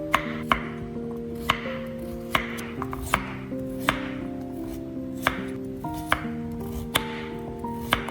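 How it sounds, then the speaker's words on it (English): A knife chops carrots into small pieces on a board, sharp isolated taps falling about once per second, steady and close, over soft background music. "cut the carrots into small pieces to make blending easier and smoother"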